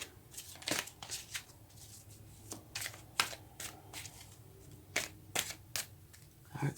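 Tarot cards are shuffled by hand at close range, a run of crisp riffling snaps and soft slaps in quick irregular bursts, with no talking.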